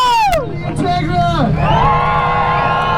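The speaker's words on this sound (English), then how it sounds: "Alright, so let's hear it for the Grom." A crowd at a motorcycle stunt show cheers and whoops loudly, with rising and falling shouts and whistles over a steady roar of voices, while a person talks over the noise.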